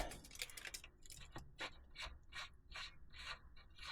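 A ratchet loosens the hot lead nut on an RV alternator, giving quiet, close, rapid clicking in short uneven runs with no talking.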